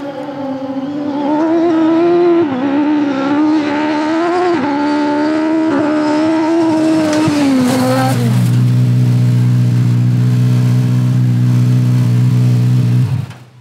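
A 250 hp off-road buggy accelerates hard from 0 to 100 km/h on gravel, its engine roaring loud and close and climbing steadily through the revs before a shift drops it into a sustained, droning high-speed note.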